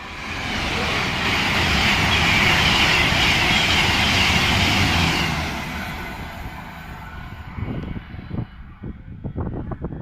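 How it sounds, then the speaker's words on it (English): A Voyager train races at speed through Watford Junction station on the West Coast Main Line, a loud sustained roar and rush building, holding for several seconds, then fading into lighter rattling and clanks. "We have another Voyager giving it the beans through the station, bound for London Euston."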